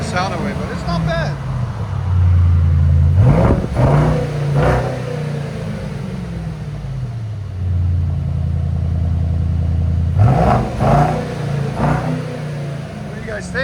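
A 2025 Mercedes GLE 63 S with a 4.0-litre bi-turbo V8 on straight-pipe exhaust revs loudly in two long pulls from a deep idle rumble, with short blips between them. Voices speak over the engine.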